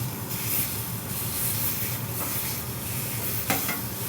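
Food flipped and sizzling on a Griddle Master griddle top while making nachos, a steady close hiss of frying with light scraping of a spatula and a brief clack near the end.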